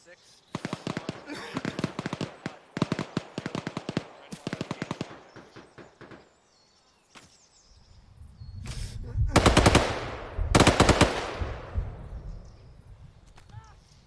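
Gunfire from an infantry field training exercise comes in rapid automatic bursts and scattered single shots, some sharp and close. Later a louder stretch of rumbling noise and overlapping shots follows, with voices talking at times.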